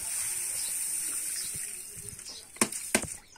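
Ten litres of water with 300 grams of salt being stirred by hand, a steady close watery swishing that ends with a couple of sharper splashes.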